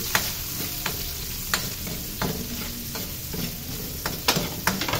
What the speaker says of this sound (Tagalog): Ilagay ko na yung luya mga loves. Gisa-gisa lang to ha.